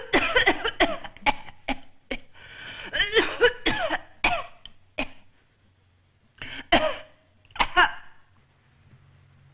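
Harsh, close coughing fits: a rapid run of coughs, a pause, then more clusters of rough, wet coughs and throat clearing, loud and with no speech.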